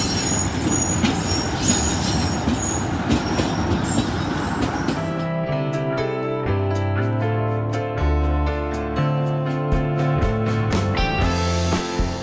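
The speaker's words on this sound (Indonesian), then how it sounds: "kereta Ketel dari arah Tegal-Larangan menuju ke arah Maus ya" A freight train of tank wagons passes on the railway, opening with rumbling and metallic wheel squeal, then settling into low rolling tones and rhythmic clicking of wheels over rail joints, close and sustained.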